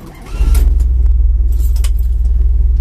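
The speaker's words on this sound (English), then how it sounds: "We're going to be driving a 1963 Cadillac." A 1963 Cadillac starts up and settles into a loud, deep, steady running rumble with an even pulsing throb. A few light clicks and jingles sit on top, and no one speaks.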